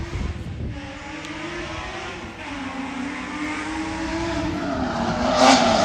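A drift car at a Cyprus Drift Championship practice session holds a steady, loud engine note with tyre scrub through a slide, the pitch climbing slightly toward the end as it builds power.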